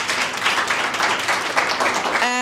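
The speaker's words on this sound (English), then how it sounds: "Can we give ourselves a round of applause?" An awards-ceremony audience breaks into sustained, dense applause, many hands clapping steadily throughout at an even, loud level.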